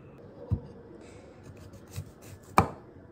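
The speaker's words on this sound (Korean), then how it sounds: "서남파머스에서 이번에 여름 시즌 동안 나오는 참외인데 이거를 한번 잘라서 저녁 디저트로 먹어보겠습니다" A knife cuts into a Korean melon (chamoe), a summer-season fruit, on a board, giving three distinct close thuds with soft slicing scrapes between them.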